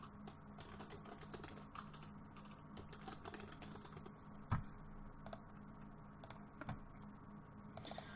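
Quiet typing on a computer keyboard while naming a user-interface widget blueprint in Unreal Engine, irregular soft key clicks with one sharper, louder tap midway, close-up and alone without any voices.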